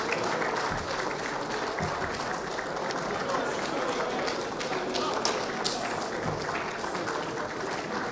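An audience at a ministerial press briefing in Abuja applauds for the Minister of Environment, with dense, steady clapping filling the room throughout, fairly loud and continuous, with no talking over it.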